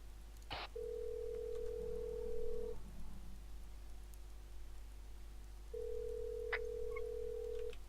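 A telephone rings twice in the video game Arma 3, each ring a steady electronic tone lasting about two seconds, separated by a pause and heard over a low constant background hum with no talk.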